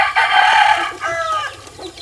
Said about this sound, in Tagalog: Ang daming native na manok mga kaparmers.